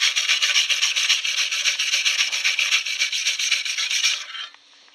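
Steady, continuous abrasive rubbing scrubs rust off a mild steel stove shovel, a close, loud rasping texture with quick back-and-forth rhythm that stops abruptly near the end.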